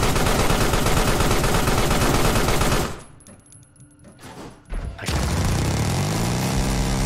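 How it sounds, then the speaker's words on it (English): Dense, loud burst gunfire in the video game Carrion, continuous rattling fire that cuts out briefly to near silence midway before resuming just as heavily. "burst fire is very useful for many things"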